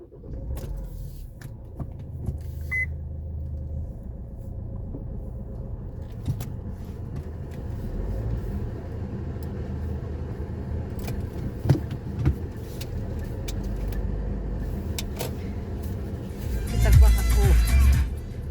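Heavy road traffic in a jam outside a cafe area, a steady low rumble of many idling and creeping cars heard from inside a vehicle, with a few clicks and a louder burst of noise near the end.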